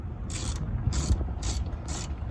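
A ratchet wrench works on the 8mm screws holding the fender well skirt of a 2008 Dodge 6.7L truck, giving four short bursts of rapid clicking at an even pace over a low background rumble.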